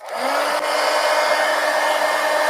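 A heat tool blows steadily and loudly up close, drying thick wet paint on an art journal page, a constant whooshing hum with no pauses.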